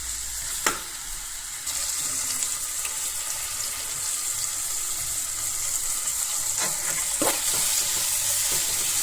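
A tempering of chillies and tomato fries in a pan with a continuous close sizzle. After a sharp early clack it grows louder and fuller, and occasional stirring scrapes and knocks sound through it, with no voices.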